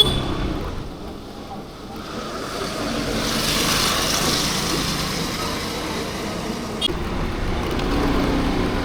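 Evening road traffic at about half past five gives a continuous, even rumble and hiss of passing vehicles, with no distinct horns or voices standing out.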